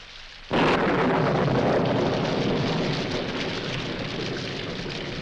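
Heavy rain bursts in suddenly after a brief quiet moment in a 1946 film scene, then pours as a loud, dense, steady hiss that eases only slightly as it continues.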